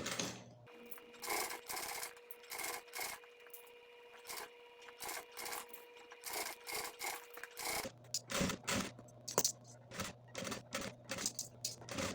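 Sewing machine stitching bias binding onto a crossbody bag, running in repeated short bursts with a steady motor whine beneath the rhythmic needle clatter, close and fairly quiet.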